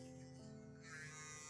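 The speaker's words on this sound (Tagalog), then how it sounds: "Ito is yung shaver ng buhok sa ilong." An electric nose hair trimmer held against flowering plants in a spring garden, buzzing steadily and close for the whole stretch so the blooms vibrate for pollination, its tone shifting slightly partway through.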